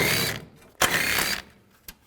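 A ratchet works a 10mm headlight bolt loose on a 2013–2019 Nissan Sentra, giving a close, short burst of clicking, a second longer run of ratcheting, then a brief final click.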